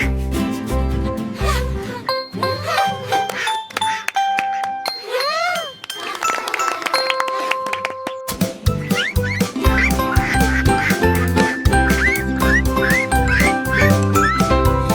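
A cartoon duck quacks in a 3D animated nursery rhyme, a series of short nasal calls mixed with whistles and bright chiming tones over a steady, rhythmic musical backing.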